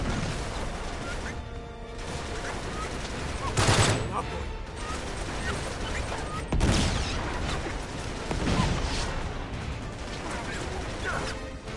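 Dense bursts of gunfire from the video game Uncharted 3: Drake's Deception, rattling almost continuously with heavier crashing volleys at intervals, while a person talks over the shooting.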